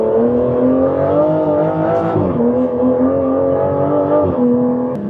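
A 2025 Aston Martin Vanquish pulls hard in Sport Plus mode, its engine note climbing loud and close, dropping twice at quick upshifts before rising again, with no voices heard.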